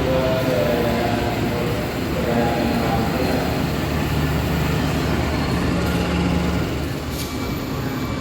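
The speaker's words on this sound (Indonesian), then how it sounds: "Pasundan telah diberangkatkan dari stasiun Lempuyangan ya teman-teman" The Pasundan passenger train pulls out of Lempuyangan station as a loud, steady rumble of wheels and engine, with faint tonal squeals riding over the continuous roar.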